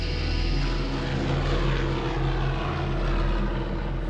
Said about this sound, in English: 5 historic warplanes taking to the Lincolnshire skies